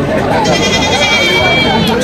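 A male goat bleats loudly and repeatedly close by at the Tebaria livestock market in Natore, Bangladesh, wavering cries over a busy crowd murmur with overlapping voices.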